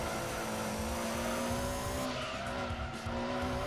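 Race car in Gran Turismo 2 braking hard for a corner, steady engine drone under a sustained squealing tire skid, loud and continuous.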